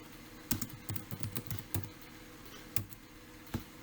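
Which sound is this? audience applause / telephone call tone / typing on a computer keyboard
typing on a computer keyboard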